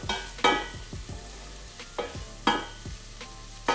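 Mushrooms sizzle in a hot pan as they are stirred, with a steady close frying hiss broken by several sharp scraping strokes of the spoon against the pan at irregular intervals.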